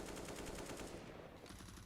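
Rapid automatic gunfire from the video game Counter-Strike: Global Offensive rattles in fast bursts, with a short break partway through before more shots follow.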